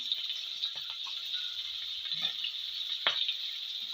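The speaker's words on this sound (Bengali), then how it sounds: "কাঁচা লঙ্কাগুলো একটু ভাজা ভাজা হয়ে এসেছে, এবার পেঁয়াজের টুকরোগুলো দিয়ে দেবো" Onion pieces drop into green chillies frying in hot oil, giving a steady close sizzle with a few soft bursts and clatters as they hit the pan.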